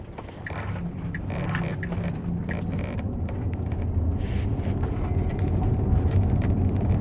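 A Tesla driving on FSD Beta through a loop route, steady road and cabin noise rising slightly in level, with faint creaks and rattles from the interior, no talking.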